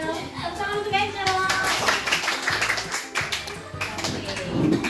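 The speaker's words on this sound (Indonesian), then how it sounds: "Tepuk tangan untuk Angel" Children in a fourth-grade elementary classroom clapping for a classmate, a scattered burst of applause mixed with young voices talking over it.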